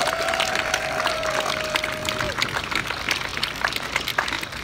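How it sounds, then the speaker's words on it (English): A crowd applauds at an outdoor 5k charity walk supporting Gift of Life in Boston, with steady, sustained clapping throughout and a brief tone in the first half. "Please give them both another round of applause."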